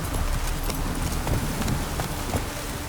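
Roach, the horse in The Witcher 3, gallops with rapid, continuous hoofbeats over a dense, noisy outdoor background, the beats close and fairly loud.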